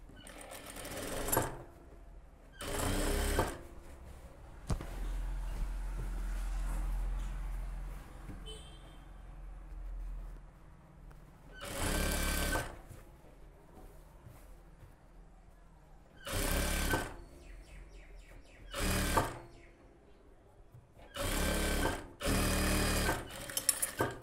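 Sewing machine stitching a border onto a puff sleeve, running in several loud bursts of rapid stitching separated by pauses, with a low hum between runs.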